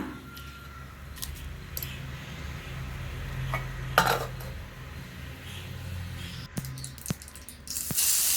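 Mustard seeds spluttering in hot oil in a pan, a steady faint sizzle broken by scattered sharp pops and crackles that grow busier toward the end.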